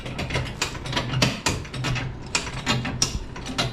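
A car jack ratchets repeatedly under a Stingray Corvette, giving a close, sharp run of metallic clicks in uneven bursts with brief pauses, and no voices.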